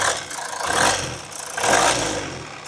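A Volvo XC60 engine idles steadily with a low rumble, swelling slightly twice as the throttle is touched; no voices.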